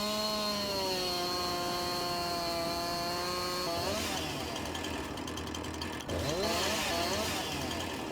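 A chainsaw cuts into a tree in the video game Farming Simulator 19. The engine revs with a steady tone, then bites into the wood with a rougher buzzing grind, all loud and close throughout.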